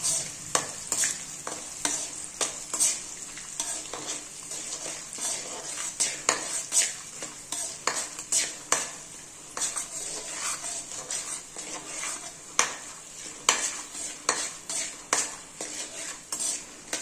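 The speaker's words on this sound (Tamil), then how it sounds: "இது ரெண்டுத்தையும் எண்ணெயில் நல்லா பொரிச்சுக்குவோம்." Dried sundakkai and manathakkali vathal fry in oil with a soft, steady sizzle, while a metal spoon stirs and scrapes against the pan in frequent sharp clinks. No one speaks.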